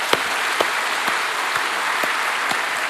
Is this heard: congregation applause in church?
yes